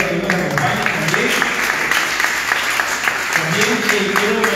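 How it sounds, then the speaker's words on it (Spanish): An audience at a press conference for a civil engineers' charity 5K run claps steadily, a moderate wash of applause running beneath a speaker's amplified voice. "Por favor, un aplauso a los invitados que nos acompañan también."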